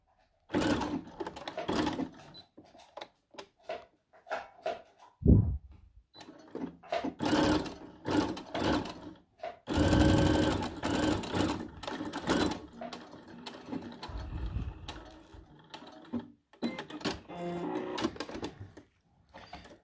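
A sewing machine runs a straight 3 mm stitch along the lace edge of an underwired, cupped bra, in irregular bursts of whirring with short pauses between them. No one speaks.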